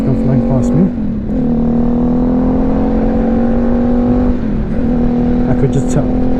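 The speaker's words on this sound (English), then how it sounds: "This car's gonna come flying past me." A car speeds past a BMW G310GS motorcycle on the road, its engine note rising and falling against steady wind and engine drone, with a brief voice over it.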